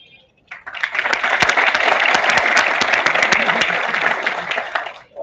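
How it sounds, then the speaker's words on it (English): Students at a B.Tech orientation clapping for themselves, a sudden dense burst of crowd applause in a hall that holds steady and loud for about four and a half seconds, then stops abruptly. "The very first thing I would like you to do is just clap for yourself."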